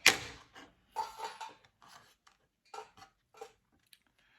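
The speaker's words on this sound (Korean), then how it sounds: "가위로 전 이렇게 자르는 게 더 편하더라고요" Scissors snip through sticky dried jujubes for a sweet rice dish, giving a series of sharp, close, irregular clicks and cuts separated by short silences, with no talking.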